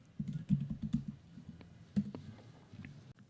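Fingers type a file name on a MacBook keyboard, a close run of rapid soft key clicks followed by a few slower, isolated taps in a quiet room.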